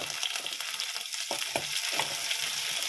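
Onions, green chilies and curry leaves fry in a pan for an egg curry, giving a steady close sizzle with a few sharp stirring scrapes and pops partway through.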